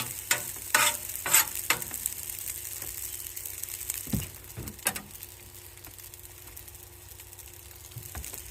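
Eggs sizzle on a hibachi griddle beside fried rice, a soft steady frying hiss broken by sharp spatula scrapes and taps near the start and middle, with no talking.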